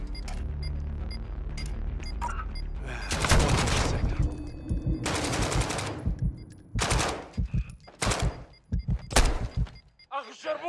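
Gunfire in Call of Duty Warzone 2.0, with automatic bursts and heavy shots over game chatter and voices, loud bursts separated by brief gaps.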